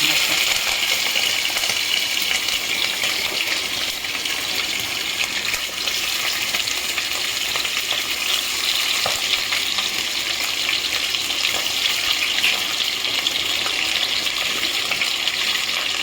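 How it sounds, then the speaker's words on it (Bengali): Hilsa fish pieces frying in oil with nigella seeds and green chillies, a continuous bright crackling sizzle with scattered spits and pops, close up and steady for the whole stretch, no talking. "মাছগুলো আমি হালকা ভেজে নিয়েছি।"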